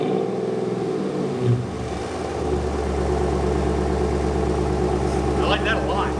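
A Hemi-swapped car engine idles with a deep, loud burbling rumble, then rises into a rev before settling back to a steady throb; speech 0.84 suggests people are talking during it.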